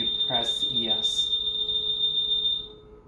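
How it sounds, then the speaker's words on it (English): A Dräger Evita V800 ventilator sounds its secondary acoustic alarm, a steady high piercing tone held for about two and a half seconds before it cuts off, while a person talks briefly at the start. "is there a secondary acoustical alarm signal audible, so you can hear it?"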